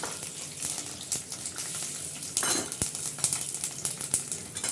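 Cumin seeds, curry leaves and green chillies frying in a hot pan on a home stove, a steady crackling sizzle with occasional utensil clinks and stirring scrapes, close and moderately loud, no voices.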